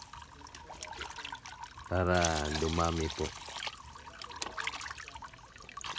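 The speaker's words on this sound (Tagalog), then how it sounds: "So, lagyan lang natin ng tubig" Water poured from a container onto grated coconut mixed with feed for ducks, a short splashing pour lasting about a second, with a person speaking briefly over it.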